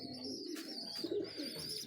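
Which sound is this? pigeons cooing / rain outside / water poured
pigeons cooing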